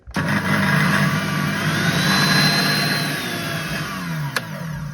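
Small electric motor on a secondhand appliance starts up abruptly and runs at a steady loud whine with a faint rising tone, settling slightly lower before a brief click near the end.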